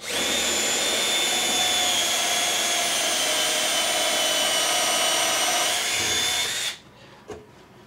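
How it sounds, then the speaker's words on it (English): Festool CXS cordless drill pre-drilling holes in wood, a steady high whine running for several seconds up close, then stopping abruptly, followed by a brief faint click. "Now I'll go ahead and I'll pre-drill four holes"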